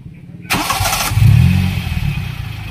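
A Toyota 2E engine with freshly adjusted valve clearances cranks briefly and fires on the first try, then settles into a steady, close idle with a low throbbing rumble.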